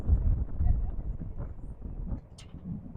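Gusty wind buffets the microphone at a high school boys soccer game, a low rumbling roar that swells and dips in uneven pulses, with faint distant sounds from the field beneath it.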